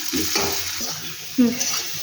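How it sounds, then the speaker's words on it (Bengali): Potatoes frying and being stirred in a pan, with steady close sizzling, a scraping stir and a brief louder hiss partway through. "আলুটা 5 মিনিট ভাজা হয়ে যাক"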